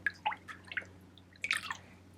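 Melted tallow balm being poured into deodorant stick tubes: a few soft, wet dribbling and dripping sounds in short bursts, faint and close, with no talking.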